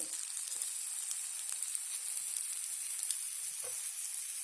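Raclette cheese melts in a pan with a faint, steady sizzle, scattered with small pops and crackles, and no one speaks.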